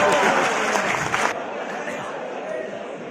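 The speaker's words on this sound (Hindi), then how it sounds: "जोरदार ताली सर के लिए।" An audience clapping for a speaker at a speech event, a loud dense burst of applause for about a second before it drops to a softer murmur of crowd noise, with a voice over it.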